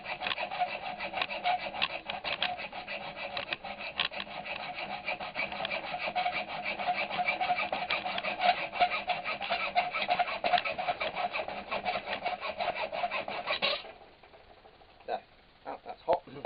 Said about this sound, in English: I'm taking a hacksaw and just sawing it off.